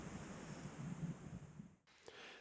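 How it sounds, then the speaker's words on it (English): Steady wind buffeting the microphone outdoors on a Peak District hilltop edge, a constant rushing roar that cuts off abruptly near the end, leaving quieter air. "a little bit windy, bit of a breeze coming over the top here"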